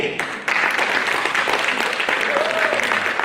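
A burst of applause, dense clapping from a crowd that starts abruptly and continues steadily throughout.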